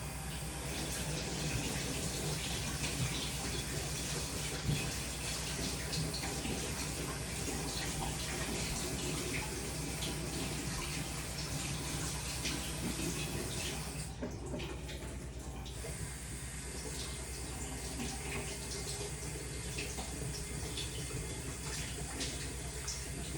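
Kitchen tap running into a sink while cut potatoes for steak fries are rinsed, a steady soft rush of water with a brief interruption midway, heard fairly faint and close.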